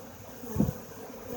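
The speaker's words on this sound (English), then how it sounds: "Now we're going to start pouring some bees in." Honeybees from a package being poured into a hive give a steady soft buzzing drone throughout, with a brief muffled thump midway.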